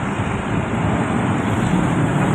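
Road traffic on a Quezon City route heading toward Cubao, heard as a steady broadband roadway rush with wind buffeting the microphone, continuous and moderately loud with no speech.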